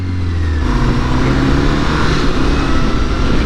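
Motorcycle engine heard while riding, a smooth bike with no exhaust fitted, giving a steady, fairly loud mid-pitched drone with road and wind rush that holds constant throughout after a brief change at the start.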